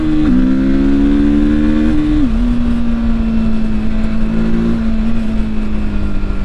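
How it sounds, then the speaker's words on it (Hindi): A 2024 TVS Apache RTR 310 motorcycle engine holds at high RPM, a loud continuous drone that dips briefly then settles into a steady whine, recorded close with no talking. "आप इस मोटरसाइकिल को हाई RPMs पर चलाएंगे तो भी आपको इसमें काफ़ी अच्छा फील आएगा"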